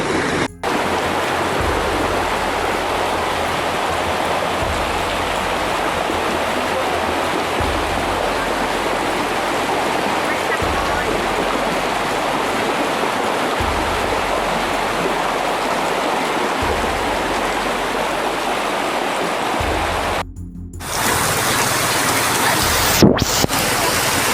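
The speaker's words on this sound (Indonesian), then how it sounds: "hujan gede di bawah Calobak" Heavy rain and floodwater rush down a road below Calobak in Bogor, carrying large rocks, as a loud, steady roar of water that fills the whole stretch, with a brief dip and a couple of bumps near the end.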